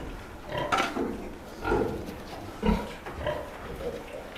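Piglets grunting in a shed as they eat, several soft, low, irregular grunts, close and quiet, with no talk.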